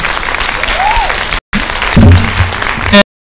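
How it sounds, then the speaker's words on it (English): Audience applause for young filmmakers at a live-streamed arts event, a steady wash of clapping that briefly cuts out, then returns mixed with some voices and a low hum. "A massive round of applause for those young filmmakers."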